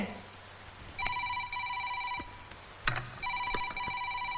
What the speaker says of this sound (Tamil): மீரா, போன் எடு.